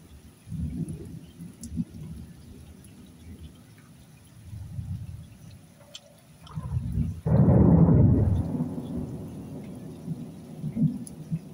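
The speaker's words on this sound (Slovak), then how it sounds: "No to už je ako trošku silnejšia búrka." A strong night thunderstorm over a house, with deep rolling thunder rumbling throughout and one loud, close crash near the middle, over a soft wash of rain.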